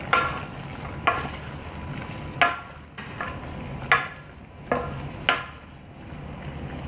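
Beef pochero with Chinese cabbage being stirred in a pan: soft scraping and sloshing with several distinct utensil knocks about once a second, steady and close with no talk.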